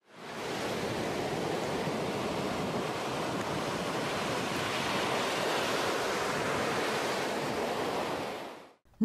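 Sea waves wash steadily onto a shore on Kazakhstan's coast near the village of Beyneu, a loud, continuous rushing surf with some wind across the whole stretch and no voices.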